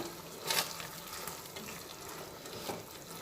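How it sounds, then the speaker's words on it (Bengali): A pot of moong dal simmers softly with okra being added, a faint watery bubbling and sizzle with one brief splash near the start and a smaller stir later, no voices. "মুগ ডালটা একটু ফুটছে সে অবস্থায় আমি ভেন্ডিগুলো এর মধ্যে দিয়ে দেব"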